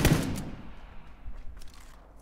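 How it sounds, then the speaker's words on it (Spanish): Gunfire in PUBG: a sharp, loud burst of shots opens the moment. Fainter thuds and scattered distant shots follow over about two seconds. "Dispararé"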